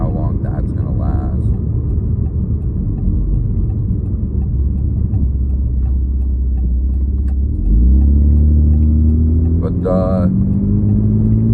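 A Mitsubishi Eclipse Spyder GT, third generation, idles on a newly fitted fuel pump, a steady low rumble that swells as the engine revs partway through, with someone talking over it.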